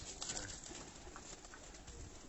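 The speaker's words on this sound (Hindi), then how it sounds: "उन्होंने ब्रीडर कबूतर तो दिखा रहे हैं जी" Breeder pigeons cooing softly at a pigeon loft, faint low coos repeating under quiet background noise, with no talking.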